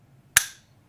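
A single sharp click as an AR-15 fitted with a CMC competition trigger is dry-fired, one crisp snap in a quiet room.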